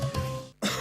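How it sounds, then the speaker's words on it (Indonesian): A single short cough rings out in a herbal cough medicine advert, followed by a brief pause of silence before the sound resumes. "Oh, batuk."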